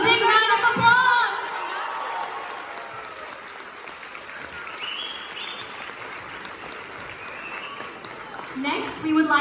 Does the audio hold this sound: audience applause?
yes